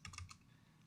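Quick clicks of typing on a computer keyboard, a short burst of three or four keystrokes at moderate closeness, then only faint room hum.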